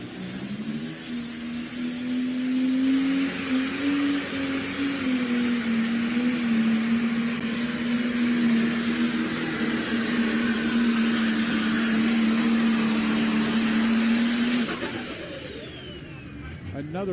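A John Deere 7830 pulling tractor with a 680-cubic-inch engine making about 5,000 horsepower roars steadily as it builds boost, a sustained loud drone with a tonal whine, then fades toward the end as the run finishes.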